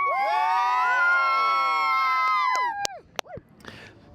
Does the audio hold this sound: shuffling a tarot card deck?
no